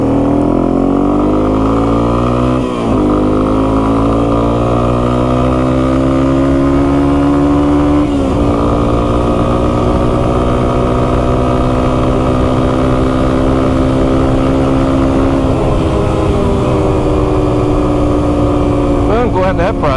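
A Yamaha TW200 dual sport motorcycle with a freshly rebuilt carburetor runs steadily nearby, its loud single-cylinder engine note rising smoothly in pitch with a few brief blips, while a person speaks over it.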